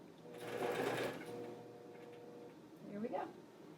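Intelliquilter computerized quilting machine sewing a short burst of locking stitches, a close, quick mechanical whir that starts, pauses, then runs briefly again, with faint movement between.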